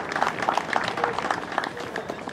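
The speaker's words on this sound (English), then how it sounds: "let me hear a round of applause for that" Crowd applause at the official opening of the Morvant Football League, a steady wash of clapping filling the whole moment with a voice faintly underneath.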